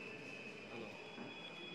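A train pulls into a station in the Tatras, heard faintly as a steady rumble with a high squeal from the wheels. No voices.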